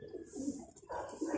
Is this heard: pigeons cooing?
yes